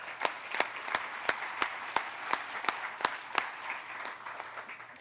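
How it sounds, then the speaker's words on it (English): Applause at a hospital groundbreaking ceremony for a new children's hospital in Wesley Chapel, with a few sharp, distinct claps standing out over a lighter, scattered crowd clapping that thins toward the end. "Let's give them a round of applause."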